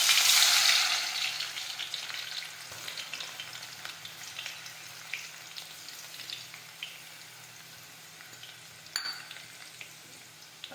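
Mustard seeds and cumin drop into hot oil, followed by crushed garlic, and set off a loud initial burst of sizzling. The frying settles into a softer, steady crackle with faint pops and a sharper clink near the end.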